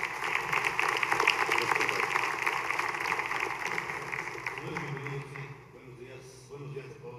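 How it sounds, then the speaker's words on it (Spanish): Audience applause at an industry summit panel, a dense wash of clapping that fades out over several seconds before a voice begins speaking. "Los recibimos con un aplauso, si son tan amables."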